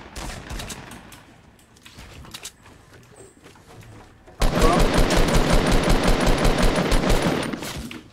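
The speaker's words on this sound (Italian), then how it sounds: "Spari, spari, spari, spari proprio qua davanti" Rapid automatic gunfire in the Fortnite battle royale game, with sparse shots at first, then a dense, loud burst of continuous fire over the last half.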